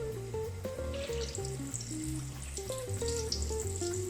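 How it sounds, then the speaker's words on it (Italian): Arancini frying in hot sunflower oil at around 170 degrees give a steady, soft, bubbling sizzle close by, with a musical tone playing underneath throughout. "L'olio di semi di girasole è già caldo, siamo intorno ai 170 gradi, possiamo immergere gli arancini."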